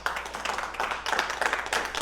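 Clapping from a church congregation during a water baptism service, several bursts of hand claps in uneven rhythm, fairly faint and a bit distant, lasting about two seconds.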